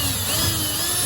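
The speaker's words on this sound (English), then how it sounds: "So the next thing you do is you drill at an angle." A power drill bores at an angle into a tool handle held in a vise, giving a steady, close, continuous whine with a low motor hum throughout.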